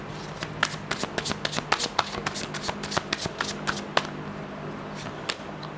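Tarot cards shuffled close up in a quiet room, a steady run of crisp riffling flicks and slaps for several seconds, with no talking.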